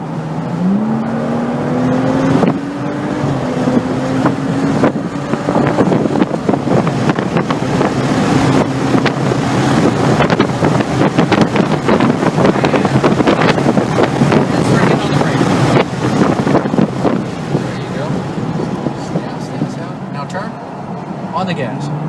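A BMW accelerates on the Circuit of the Americas race track during a club track session, its engine note rising early and then droning under heavy wind buffeting while a voice talks over it.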